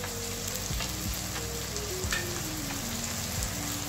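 Chopped tomato, green chili, ginger pieces and garlic cloves sauté in a pan, a constant close sizzle with a few soft stirring knocks and no talk.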